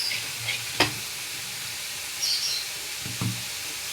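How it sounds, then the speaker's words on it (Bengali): Raw banana kofta mixture being sautéed in a pan, a soft steady sizzle with a few sharp scrapes and clicks of a spoon stirring against the metal. "এটাকে এবার আমি আর একটু কষব"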